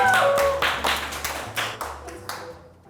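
A small group in a studio gives a short round of clapping, with about five or six uneven bursts that fade out over a few seconds, with faint voices underneath.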